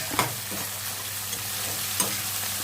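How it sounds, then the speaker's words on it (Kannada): Fenugreek leaves and onions frying in a pan, with a low steady sizzle and a couple of sharp stirring scrapes, no voices. "ಮೆಂತ್ಯ ಸೊಪ್ಪು ಸ್ವಲ್ಪ ಕ್ರಿಸ್ಪಿ ಬರೋ ತನಕ ಇದನ್ನು ಫ್ರೈ ಮಾಡಬೇಕು"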